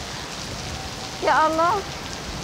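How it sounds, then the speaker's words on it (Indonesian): Heavy rain pours steadily throughout at Man On Shan park, and a person briefly speaks over it partway through. "Hujannya lebat banget."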